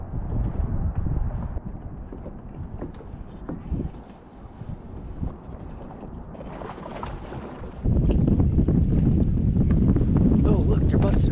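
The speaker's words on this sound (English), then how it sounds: "I'm gonna start out idling, looking for brush" Fishing boat idling on Lake Eufaula, a steady low engine drone with wind buffeting the microphone, growing louder and rougher in the last few seconds.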